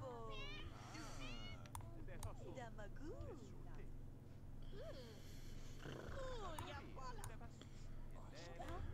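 A cat in The Sims 2 meows repeatedly in short rising and falling cries, close and fairly quiet, over a steady low game background hum with some purring-like texture.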